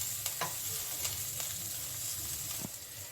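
Paneer and onion frying in a pan for a quick tiffin snack: a close, steady sizzle with a few sharp scrapes and taps as the mix is stirred, and no talking.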